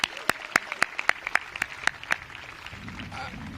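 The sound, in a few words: audience applause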